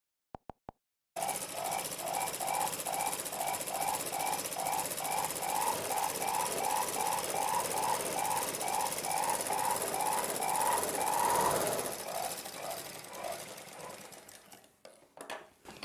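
A sewing machine stitching a blouse runs steadily close by, a loud, even, rapid needle rhythm that continues for about ten seconds before slowing and fading to quiet.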